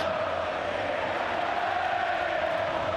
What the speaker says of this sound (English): Now it's got the crowd singing again here at the Vallecas.